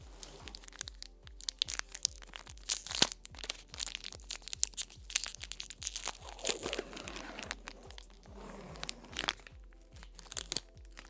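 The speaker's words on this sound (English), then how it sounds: "Here is some candy opening ASMR for you." A Fifth Avenue candy bar wrapper is opened up close, with crisp crinkling, crackling and tearing of plastic in irregular bursts, quiet and intimate against near silence.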